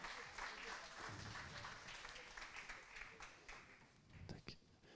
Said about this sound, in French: Merci de l'applaudir pour l'encourager